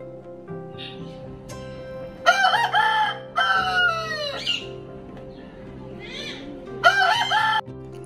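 Clucking and squawking from chickens close by, with a few loud rooster-like crows breaking in over softer background clucks.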